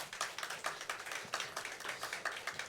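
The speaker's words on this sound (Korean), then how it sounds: "박수로 환영하시겠습니다" Church congregation clapping to welcome a new associate pastor during a Sunday service, a modest group of hands beating in a quick, fairly rhythmic patter, faint and somewhat distant.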